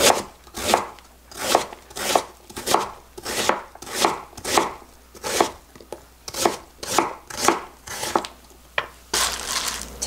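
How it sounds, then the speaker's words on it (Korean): Radish diced into small pieces with a knife on a cutting board for a Korean beef soup, about fifteen crisp, evenly spaced chops in a steady rhythm, close and clear with no talking. "무는 너무 크지 않고 조금 작게 썰었거든요."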